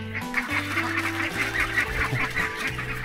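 Ducks calling continuously in a loud, honking chorus in a village, several birds overlapping throughout with no pauses.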